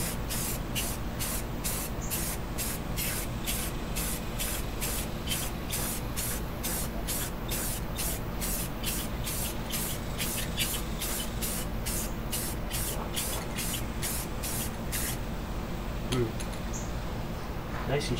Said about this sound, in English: I'm going to spray paint this motherboard with some clear coat paint